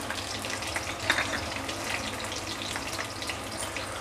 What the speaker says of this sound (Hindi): तेल जैसे ही गर्म हो जाएगा तो इसके अंदर हम डालेंगे फ्लावर 1 कप